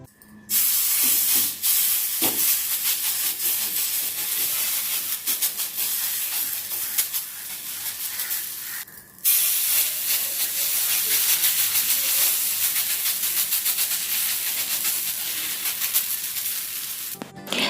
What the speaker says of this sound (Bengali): একটা তাওয়া গ্যাসের মধ্যে বসিয়ে ভালোভাবে গরম করে নিয়েছি তারপর একটু রিফাইন্ড অয়েল তাওয়ার উপরে ভালো করে বুলিয়ে দিচ্ছি